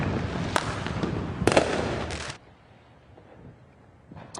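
Illegal fireworks go off in a Los Angeles County neighborhood in a dense crackling barrage with sharp pops, then drop to a faint distant rumble before a few more bangs.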